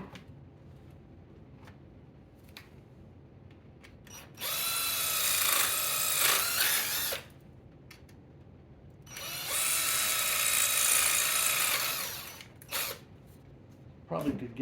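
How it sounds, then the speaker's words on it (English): A power drill bores through a small metal plate on a Williams pinball single drop target, two sustained whining bursts of several seconds each, close and loud, with quiet handling noises between. "I have to also drill that little plate there."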